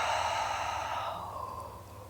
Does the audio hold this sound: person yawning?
yes